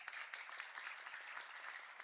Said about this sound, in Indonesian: Tepuk tangan yang meriah untuk polisi Republik Indonesia